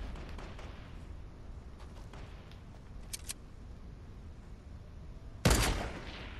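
Fortnite gunfire in a solo match: a couple of faint sharp shots, then one loud close blast near the end, over a low background rumble.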